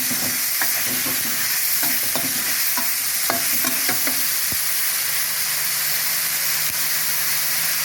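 Spicy eel curry sizzles steadily in a hot pan while a utensil stirs it, with scattered scraping knocks during the first few seconds over constant loud frying hiss.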